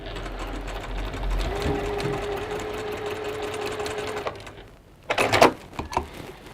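A sewing machine stitches small fabric units in a quilting workshop with a steady mechanical whirr for about four seconds, then stops, followed by a few sharp clunks and rattles of handling.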